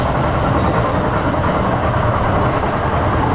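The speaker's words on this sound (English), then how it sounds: "We've gone up a lift hill, let's drop you down and then add a trim brake." PortAventura roller coaster train, a 1995 ride, rumbling along its track after a lift hill drop and trim brake: a loud, continuous low roar with rattling, heard up close and without talk.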